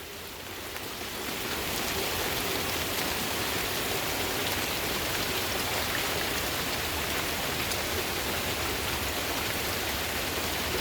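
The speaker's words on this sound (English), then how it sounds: "Rain, listen." Steady rain pours down evenly, a dense continuous hiss of drops striking surfaces close by, with no voices.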